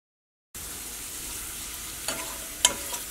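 Chopped ginger and garlic frying in hot coconut oil for a Kerala chickpea curry, a steady close sizzle after a brief silence, with a few sharper crackles and pops near the end.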